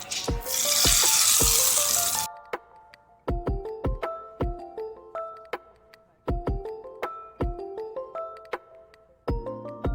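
Mustard seeds crackle and sizzle loudly in hot oil, tempering a spicy kara chutney, for about two seconds before the sound cuts off and a plucked melody takes over.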